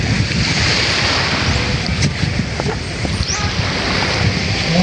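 Steady rushing surf of ocean waves with gusting wind noise, continuous and fairly loud throughout, no talking.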